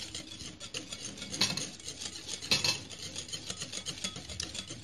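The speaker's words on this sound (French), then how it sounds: "Je vais mélanger encore de nouveau" Cake batter for a pineapple upside-down cake being mixed after pineapple juice is added, a steady close scraping and rubbing of a utensil against the bowl with two louder strokes partway through.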